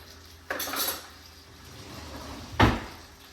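A slotted spoon scooping canned black olives, two sharp metallic clinks and scrapes against the can or dish about two seconds apart, close and clear with no talking.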